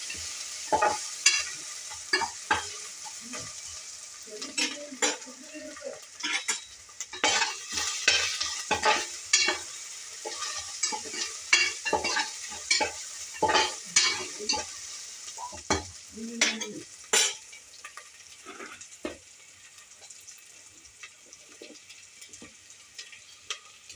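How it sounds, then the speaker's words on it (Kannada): Ginger garlic paste and onion fry in a pan for a pulao while a spoon stirs and scrapes in frequent sharp, irregular strokes over a quiet sizzle, close and fairly loud. "ಶುಂಠಿ ಬೆಳ್ಳುಳ್ಳಿ ಪೇಸ್ಟ್ ಹಾಕೋದ್ರಿಂದ ಟೇಸ್ಟ್ ಚೆನ್ನಾಗಿ ಬರುತ್ತೆ. ಸೊ ನಾನು ಹಾಕ್ತಾ ಇದ್ದೀನಿ"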